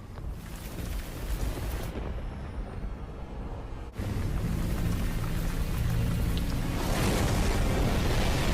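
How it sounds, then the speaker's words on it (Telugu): Rain with rumbling thunder starts up in an animated film about Noah's flood, a steady roar of downpour that swells suddenly louder partway through and keeps building. "అవును, వర్షం ప్రారంభమయ్యింది."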